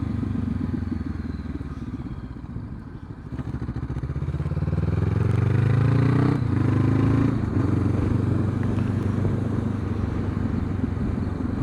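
Honda CB500X motorcycle exhaust on the road, a steady mid-low engine drone that swells and rises partway through as the bike accelerates, continuous and fairly loud with wind rush.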